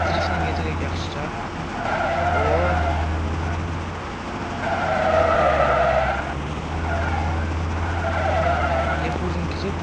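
A car drifting through city streets, its tires skidding and squealing in long repeated swells over a steady engine drone, loud and close throughout.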